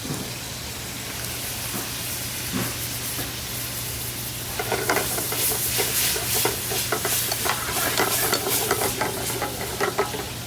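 A hot pan sizzles loudly and steadily as red wine is poured in to deglaze it, crackling and hissing intensifying partway through, with no talking.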